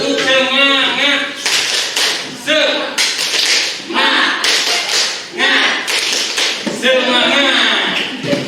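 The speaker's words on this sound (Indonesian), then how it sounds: "Ini tepuk semangat bisa juga tepuk semangat." A group claps out a 'tepuk semangat' clap chant, sharp rhythmic claps in quick bursts mixed with chanting voices, loud and close throughout.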